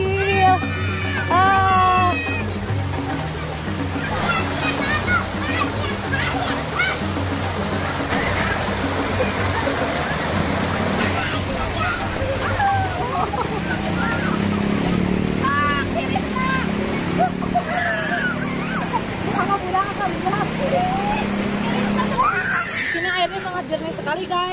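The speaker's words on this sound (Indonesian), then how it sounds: "airnya ini mengalir langsung dari Gunung Gede Pandowo" Clear river water flowing down from Mount Gede Pangrango, a constant rushing wash beneath frequent talking and children's voices at a bathing spot.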